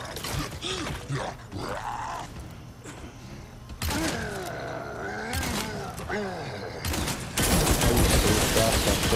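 Gunfire in the video game Resident Evil 4 Remake, with turrets firing at an enemy: sharp bursts of shots and clanking mechanisms, ending in a loud sustained volley, mixed with grunts and game voices.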